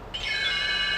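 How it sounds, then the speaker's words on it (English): A read-along book's page-turn chime: a bright bell tone strikes after a short silence and rings on with a sustained, shimmering decay, alone and clear. "You will know it is time to turn the page when you hear the chimes ring like this."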